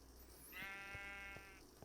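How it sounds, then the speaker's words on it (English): A single sheep bleats once in a blocky sandbox game, a short, clear, wavering bleat at close range amid quiet game ambience. "Sheep."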